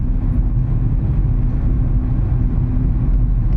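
Loud, steady low rumble of a large vehicle on a road, a continuous drone with no distinct events, heard from close by inside or beside the vehicle.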